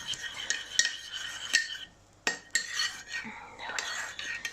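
A spoon mixes yogurt and mint sauce in a bowl, producing repeated clinks and scrapes of metal on the dish with brief pauses between strokes, close and fairly quiet.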